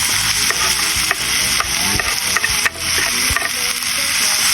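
Mustard greens drop into tomatoes sautéing in a pan, setting off a loud, close frying sizzle broken by repeated scraping and clanks of a spatula being stirred through.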